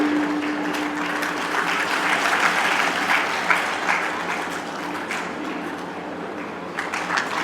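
Students at a coaching institute's award ceremony in Rewa break into sustained, dense applause lasting several seconds, a steady wash of many hands clapping with a faint tonal hum beneath at the start.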